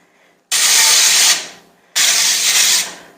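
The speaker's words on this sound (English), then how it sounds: "give it just a little spray with my organic extra virgin olive oil spray" Organic extra virgin olive oil cooking spray released onto 8x8 baking pans, two loud hissing bursts of about a second each, close up with a short pause between.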